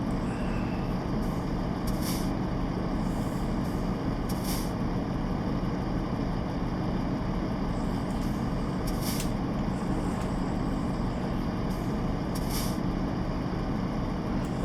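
A heavy truck strains to haul a caught third trailer on a construction job in Mexico, giving a steady loud low engine rumble throughout with repeated short hissing air-brake bursts.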